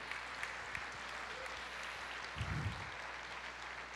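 A church congregation applauds the Lord during a Christmas sermon, soft distant clapping spread evenly across the room, with a brief low thump partway through and a steady hum underneath.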